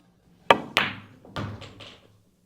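A pool cue strikes the cue ball with top right spin, giving a sharp close knock followed by a few duller clacks and thuds as the balls collide and roll on the table.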